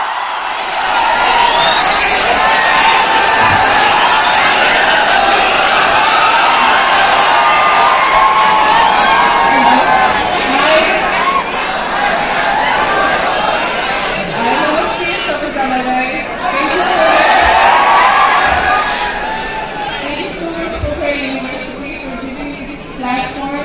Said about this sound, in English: let's put our hands together for a thundering clap for architect Shrinkhala